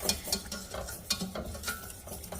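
Whisk scraping and clinking rhythmically in a pan as whole milk is stirred into a lasagna sauce, several quick strokes, close and fairly quiet.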